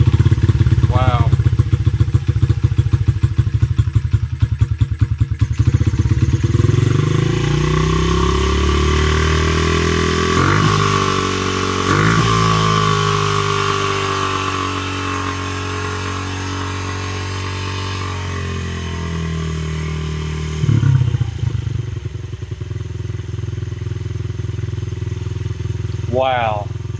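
A Honda XR50R mini dirt bike runs on choke, its small engine chattering loudly and steadily close by, with revs rising and falling over half a minute and some voices mixed in.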